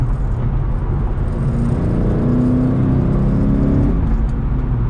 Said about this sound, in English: The exhaust sounds really nice.